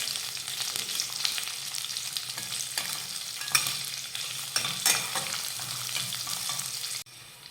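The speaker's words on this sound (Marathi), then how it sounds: "तो घालूयात कांदा परतून घेऊयात" Thinly sliced onion sautéing in a kadhai with garlic and curry leaves, a loud continuous sizzle and crackle with repeated stirring scrapes and a few sharper clatters throughout, no voices.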